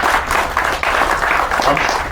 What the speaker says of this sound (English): So a nice round of applause.